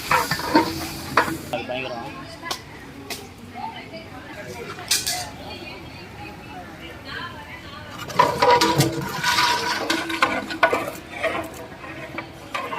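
Onions sizzle and are stirred in a large pot as garlic is added for a 50 kg batch of chicken biryani, the scraping and clinking of a ladle coming in bursts alongside the steady frying, with voices talking over it.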